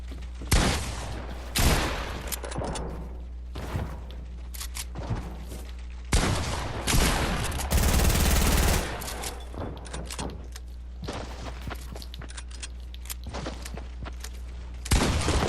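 Gunfire in a Fortnite solo battle royale match: repeated bursts and single shots crack in uneven clusters over a steady low game hum, with one longer dense volley midway and no talking.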